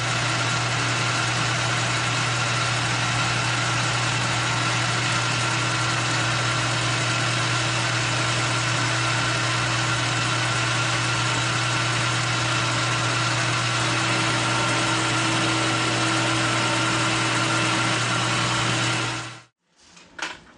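A K&T universal milling head cuts a six-spline shaft in 1045 steel, giving a steady droning machine hum with a strong low tone and a dense hiss of cutting, constant and close for about nineteen seconds before stopping abruptly.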